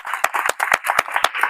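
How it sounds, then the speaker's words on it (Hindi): An audience clapping at a spiritual gathering, a quick run of sharp, close hand claps in an uneven rhythm, fairly loud and dry. "इनके नाम की ताली बजा दो।"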